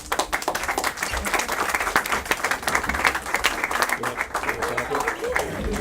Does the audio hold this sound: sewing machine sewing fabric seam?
no